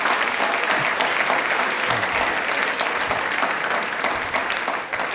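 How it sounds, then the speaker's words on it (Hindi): Loud, sustained applause from a studio audience on a Rajasthan TV quiz show about railways, a dense unbroken wash of clapping that holds steady for several seconds, then dips slightly near the end. "प्लीज एक बार जोरदार तालियां हो जाए इनके लिए।"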